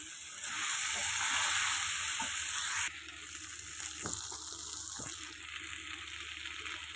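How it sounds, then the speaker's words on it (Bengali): Soybean chunks sauté in hot oil with spices, giving a steady, close sizzle that is loud at first and then eases slightly, with a few soft stirring scrapes and no voices. "বেরিয়েছে ভেজে রাখা সয়াবিন বা করি ওগুলো দিয়ে আমি খুব ভালোভাবে নেড়ে করে কষিয়ে নিচ্ছি"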